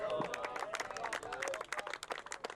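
The gallery at the 2013 Trilby Tour Grand Final at Rockliffe Hall golf course gives a tee shot moderate, uneven clapping, heard somewhat at a distance and mixed with crowd murmur and voices.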